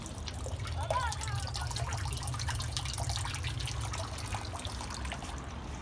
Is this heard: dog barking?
no